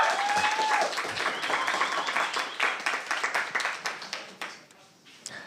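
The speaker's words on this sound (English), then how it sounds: "Maybe you get a applause from the crowd here." An audience at a Matrix community summit applauds a speaker taking the stage, with brisk clapping that thins out and fades over a few seconds.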